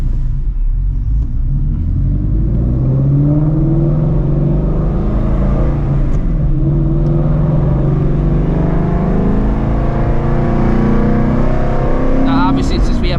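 A manual-transmission car slows to a stop on an open road, its engine dropping from about 3,000 RPM with a quick rev-match throttle blip on the downshift; a steady low engine drone runs throughout while someone talks over it.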